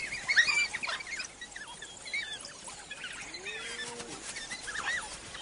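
African wild dogs give bird-like chirping calls while hunting, a scatter of short high squeaks and twitters, faint and distant over a quiet outdoor background.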